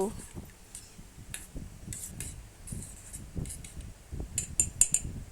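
Broken wheat stirred with yogurt and water in a bowl, the spoon making light, irregular clinks and soft wet scraping against the bowl, faint and close, with quicker clinking toward the end.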